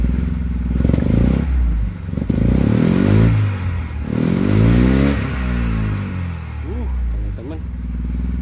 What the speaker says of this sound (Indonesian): Kita coba injak pedal gasnya.